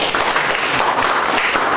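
An audience claps together through a lecture on the Pentateuch and guilt offerings, a dense, steady patter of many hands that fills the whole moment at close range, with no voices over it.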